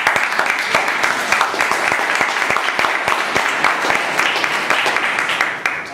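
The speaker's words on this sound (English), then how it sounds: "Please give her a round of applause." An audience claps at a committee installation ceremony, with dense, sustained applause that stays loud throughout and tapers slightly at the end.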